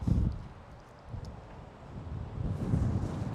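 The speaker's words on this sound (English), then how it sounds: "I've got 20+ mph winds right now" Strong outdoor wind of over 20 mph buffets the microphone in low rumbling gusts that swell and ease over a few seconds, with no voices.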